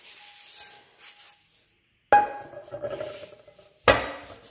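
A cast iron pan is wiped with a cloth or towel to remove excess oil, giving close rubbing strokes in two short bursts at first, then a louder sustained scrubbing pass and a final sharp swipe.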